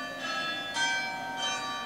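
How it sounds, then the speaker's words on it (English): Church bells ringing in Marseille, France, sounding as a faint, steady bright chime with three swelling strikes spaced through the moment, distant rather than close, with no voices over them. "I hope you can hear me over the beautiful bells of Marseille, France"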